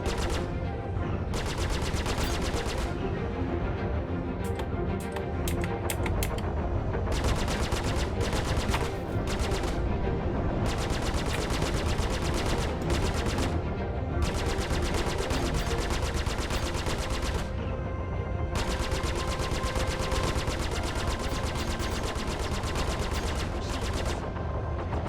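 Dense, continuous ship-mounted gunfire in the space combat game Star Citizen, with rapid bursts of shots hammering on for the whole stretch with only brief gaps, loud and close.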